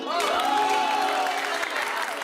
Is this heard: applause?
yes